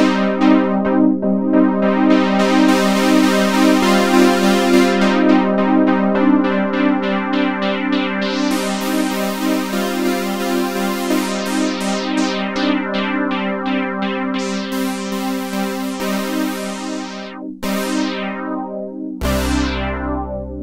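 Softube Model 84 software synth, modeled on the Roland Juno-106, plays a preset with sustained layered chords and filter sweeps, loud and continuous with a brief cut near the end, no voices.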